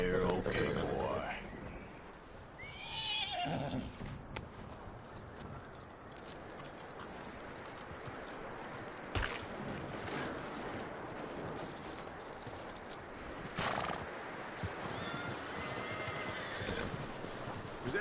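A horse in the video game Red Dead Redemption 2 whinnies near the start, then hooves clip-clop steadily through the rest, with faint birds in the background and a voice speaking calmly.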